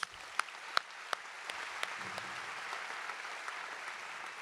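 Audience applause at a nursing graduation ceremony at Long Beach City College, opening with a few sharp distinct claps before settling into steady, moderately distant clapping from a crowd.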